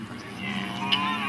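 Cattle in a corral on a remote desert homestead give a single drawn-out low moo, moderately close, over faint background ambience.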